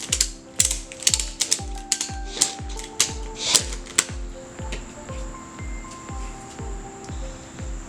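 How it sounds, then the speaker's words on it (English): Ratchet wrench being tightened while installing tire balancing beads, a quick series of sharp metallic clicking bursts in uneven strokes, close and fairly loud, with no talking. "ratchet it."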